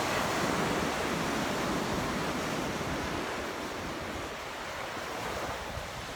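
Ocean waves roll and wash in a dense, steady roar of surf, loud and continuous throughout with a faint wind-like hiss and no voices.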